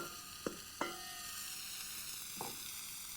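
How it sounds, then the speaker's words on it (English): Onion and eggplant frying gently in canola oil, a soft, quiet sizzle with a few sharp utensil knocks against the pan near the start and one later, no voices. "Then I add the onion. Just soften it for a couple of minutes before tossing in the washed and drained eggplant."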